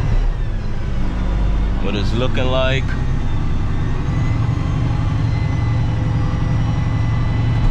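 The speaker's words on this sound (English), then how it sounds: "give it some gas, and my box is going up in the air" A dump truck's heavy diesel engine drones loud and steady while its dump box rises, with a brief tonal whine partway through and someone speaking over it.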